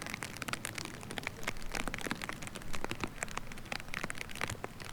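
Rain patters steadily over a wooded disc golf course in a Seattle-area park, a dense field of close, fine droplet hits with a few sharper ticks, fairly quiet and with no voices.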